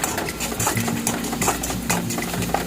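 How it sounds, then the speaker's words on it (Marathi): Tomatoes, coriander and kokum sautéing with onion in a pan, a steady soft sizzle with light spatula scrapes and clinks against the metal, close and continuous with no talk. "टमाटर जरा परतून घेऊया"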